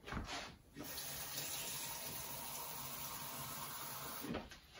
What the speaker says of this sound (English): So I do hot water from the sink